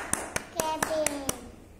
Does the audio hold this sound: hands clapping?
yes